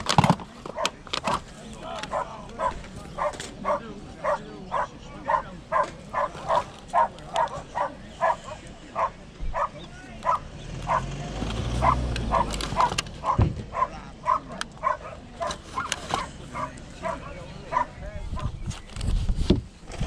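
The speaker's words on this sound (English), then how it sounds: "Oh, here come lots of dogs." Many dogs bark in repeated short yaps at an outdoor car boot sale, a steady run of sharp barks over a general crowd murmur with a low rumble passing midway.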